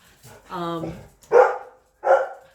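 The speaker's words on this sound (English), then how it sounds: "So my dogs are going to bark." Dogs bark in a few sharp, loud bursts, near, after a brief stretch of voiced sound, in a home kitchen during cooking.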